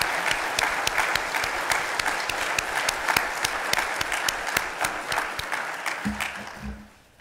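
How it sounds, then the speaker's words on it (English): Sustained applause from a church congregation during a Sunday worship service, steady and dense clapping that fades out near the end. "give them a round of applause for their service to the college church"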